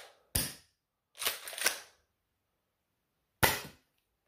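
An XYL M870 shell-ejecting toy shotgun blaster fires three sharp pops: one near the start, a quick cluster with ejection clatter in the middle, and a final crack after a pause, each loud and alone with no talk.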